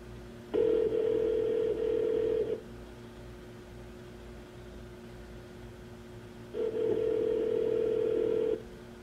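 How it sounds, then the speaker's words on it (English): Subaru car phone dialing tone heard in two steady, loud bursts of about two seconds each, separated by a quiet pause with a low hum underneath. "Dialing."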